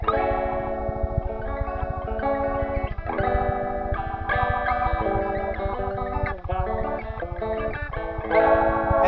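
Electric guitar chords through a rotating speaker cabinet, the swirling warble easing from fast to slow, played steadily and loud with sustained distorted tones and no speech.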